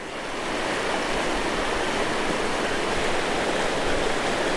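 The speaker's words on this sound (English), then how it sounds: "creek that's running down into the Dolomite" A silty mountain creek in Banff runs down toward the Dolomite, a steady, close, broadband rush of flowing water that rises in over the first moments and then holds constant with no voices.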